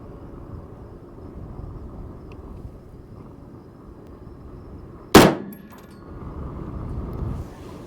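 A single sharp gunshot from a Sterling Arms R18 6.5 Grendel rifle cracks loudly at close range over steady outdoor background noise, followed by a short ringing decay.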